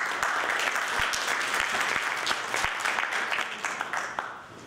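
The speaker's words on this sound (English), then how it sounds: "that definitely deserves a huge round of applause for both the communities present here" Seminar audience breaks into loud, sustained applause, with individual sharp claps popping out of the dense clapping before it starts to thin toward the end.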